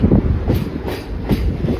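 Rumble and rhythmic clatter of the Yeshwantpur Express 16548, hauled by a WDP 4B locomotive, rolling along the rails at night near the Tungabhadra, a steady close drone with faint periodic wheel beats.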